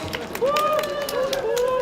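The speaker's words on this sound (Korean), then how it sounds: "박수 좀 쳐주세요" An audience of students at a university protest event at Sungkonghoe applauds in a steady, dense patter of clapping. Rising whistles and cheering voices ride over the claps throughout.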